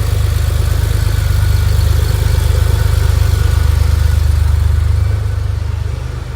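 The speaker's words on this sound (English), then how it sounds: "Got turned on, idles perfectly." A 1996 Porsche 911 Carrera 4S with factory turbo-look body idles smoothly and steadily up close, a deep, even flat-six rumble holding constant before easing slightly toward the end, with no talking.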